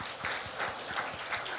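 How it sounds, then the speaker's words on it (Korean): A church congregation claps together during a Sunday morning worship service at Daegu Daeshin Church, producing a steady, fairly faint patter of many hands that fills the whole moment without a break. "다시 한번 박수 치겠습니다"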